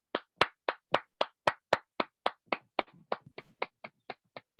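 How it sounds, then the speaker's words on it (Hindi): An audience claps at a meeting in a long run of sharp, evenly spaced claps that thin out and turn more scattered toward the end. The claps are close and stand alone, with no talk over them. "सर के लिए जोरदार ताली होनी चाहिए।"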